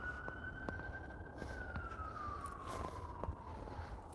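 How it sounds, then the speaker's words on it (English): A wailing emergency siren, an ambulance or police vehicle, drifts slowly in pitch as it passes along a road in snowy weather, heard steadily at moderate distance over low traffic rumble with no talking. "On this road, you hear this a lot. Sirens from ambulances and police"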